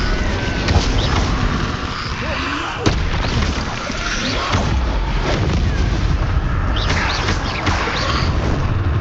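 A fire spell cast in the Hogwarts Legacy video game, heard as a dense, loud roaring whoosh that holds steady through the clip alongside other game effects, with a sharp crack near the start.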